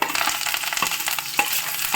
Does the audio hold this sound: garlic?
yes